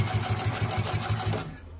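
A Consew 369RB-2 split needle bar high post sewing machine stitches forward in a quick, steady mechanical rhythm of needle strokes, loud and close, slowing and trailing off at the end.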